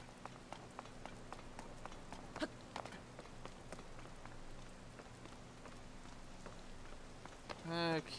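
Rain falls in Zelda: Tears of the Kingdom, a soft steady patter of drops with scattered light ticks and a brief chirpy game sound near the end, faint and without talk.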